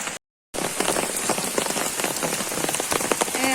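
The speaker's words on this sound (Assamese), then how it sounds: "এয়া ইমান বৰষুণো ৰাতিপুৱাৰ পৰা" Heavy rain pattering densely and steadily on surfaces close by, with a brief silent gap at the start before the downpour continues without pause.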